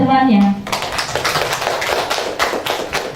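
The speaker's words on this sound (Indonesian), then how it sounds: "beri aplaus kepada temannya." A school class claps for a classmate, a short ragged burst of hand claps following a teacher's spoken line, with children's voices faintly mixed in.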